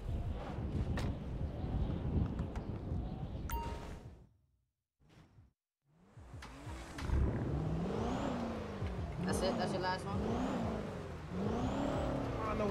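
Car in GTA roleplay driving off, engine revving and accelerating with whooshing passes, loud and sustained except for a brief quiet gap midway.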